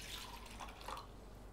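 Water is poured into a mixing bowl while preparing a miso, rice vinegar and honey sauce, a soft, close trickling splash lasting only a moment and heard quietly on its own.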